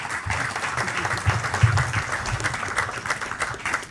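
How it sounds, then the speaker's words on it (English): An audience applauds at the NAS 2025 Annual Industrial Conference, welcoming a speaker: a full, sustained round of clapping from a crowded hall, even and continuous with no talk over it. "Round of applause, ladies and gentlemen."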